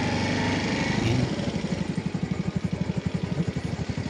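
A Honda TMX 125 Alpha motorcycle rides close by with a rhythmic, pulsing single-cylinder putter that steadies after the first second, fairly loud and with no talk over it.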